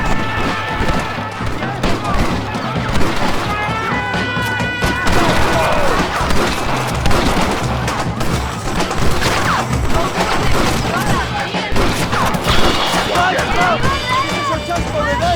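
A chaotic gunfight in Red Dead Redemption, with repeated gunshots, crashes and impacts over continuous shouting and voices, loud and busy throughout.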